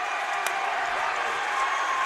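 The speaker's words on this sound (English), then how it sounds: "The crowd making some noise." A crowd at a girls' high school basketball playoff quarterfinal in a gym at Benton High School claps and cheers, a continuous roar with one sharp clap-like spike early on.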